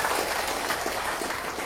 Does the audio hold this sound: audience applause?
yes